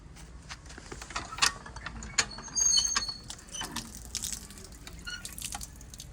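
Village dog Johnny drinking from a running tap, water splashing and dripping into a basin with scattered metallic clinks and a few lapping bursts, close by and fairly clear.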